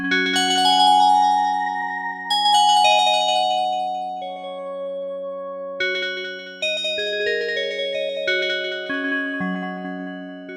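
An Osmose synthesizer patch run through a high-pass filter echo plays sustained bell-like chords with a cold, digital edge, each new chord entering over the echoing tail of the last, loud and alone.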